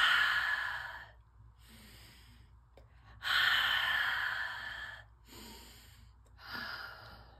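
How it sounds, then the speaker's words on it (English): Deep breathing exercise: several long, close breaths with slow inhales and forceful sighing exhales in a steady rhythm, separated by short pauses, with no talking. "I did a couple of deep breathing exercises"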